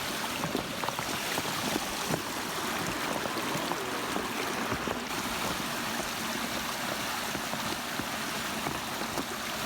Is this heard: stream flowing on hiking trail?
yes